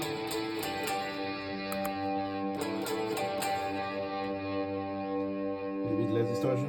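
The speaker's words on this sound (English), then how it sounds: "A bit less distortion." A buzzy, heavily distorted electronic tone from an Arion SDI 1 distortion pedal holds steady with a rich stack of harmonics, shifting slightly in pitch and texture toward the end.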